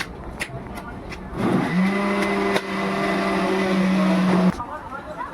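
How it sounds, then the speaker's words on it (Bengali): A mixer-grinder mashes fried fish heads into a paste, its motor starting abruptly into a loud, steady whine that holds for about three seconds before cutting off, with kitchen clatter around it. "মাথাগুলো কিন্তু এখন ম্যাশ করা হচ্ছে, আর এগুলা কিন্তু এগুলোকে এখন গুঁড়ো গুঁড়ো করে দিচ্ছে"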